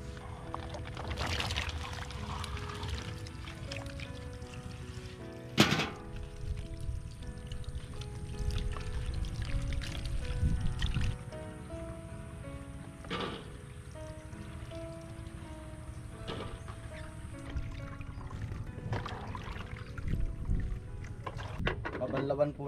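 Tomatoes are washed by hand in water, with continuous splashing, sloshing and pouring close up while someone talks over it at times.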